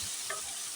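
Finely chopped onions sizzle and hiss in a pan as they are stirred for a chana motor curry, a brief, steady close-up fry with no talking.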